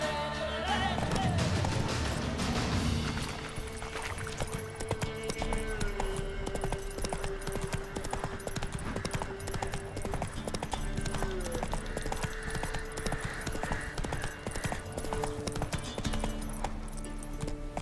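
Horse galloping in The Witcher 3: Wild Hunt, rapid hoofbeats pounding steadily and close throughout, layered with dense game music and ambience.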